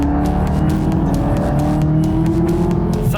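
A 650 hp Chevrolet Camaro ZL1 accelerates hard from a launch on a military airstrip, with a loud close engine roar climbing steadily in pitch and a brief shift near the end.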